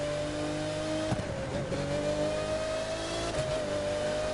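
Race car engine in The Crew 2 racing game revving hard and accelerating, a loud continuous whine rising in pitch, with brief gear-shift dips and no talking.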